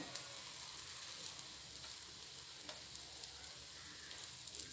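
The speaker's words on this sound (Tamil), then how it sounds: "ரெண்டு பக்கமும் நல்லா பொரிஞ்சிருச்சு" Kuzhi paniyaram fry in oil with a continuous, fairly quiet crackling sizzle and scattered small pops, heard alone at an even level.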